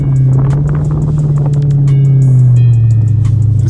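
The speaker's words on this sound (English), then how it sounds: "Just spin out real quick." A Dodge SRT Charger spins out in snow, its engine droning loud and close at a steady pitch that sags slightly near the end.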